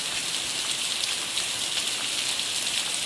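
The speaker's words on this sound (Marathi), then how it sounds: "पावसाची संततधार ही मोठ्या प्रमाणात सुरू असलेलं आपल्याला पाहायला मिळतं" Heavy, steady monsoon rain pouring down across the Maan taluka area at night, a dense, even hiss that holds constant throughout with no voices.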